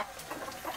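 Chickens on an organic farm clucking inside a fermentation-bedding coop, a brief run of soft, close clucks against steady background noise.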